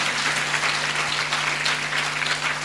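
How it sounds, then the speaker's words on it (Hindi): A church congregation applauding during a Sunday service in Karimnagar, a dense, steady wash of clapping hands that holds evenly through the whole stretch with no voices over it. "ताली बजा भाई"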